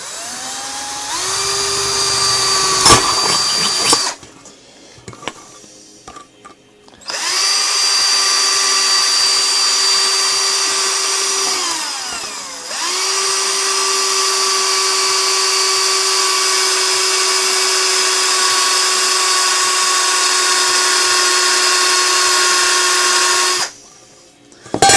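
A cordless drill with a smallish bit bores into a metal flask in long, steady high-pitched runs, its whine sagging as the bit bites, broken by short pauses and quieter handling between bursts.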